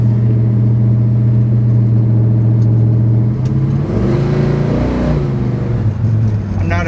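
A 1964 Dodge 426 Max Wedge clone with sure grip rear and exhaust cutouts holds a steady, loud, close engine drone while cruising, then the revs swell and shift as it accelerates.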